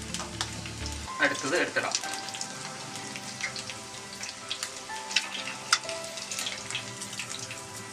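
Eggs fry in hot oil in a pan with a steady, close sizzle and crackle throughout. Bursts of louder spattering come near the start, and a voice speaks briefly over it.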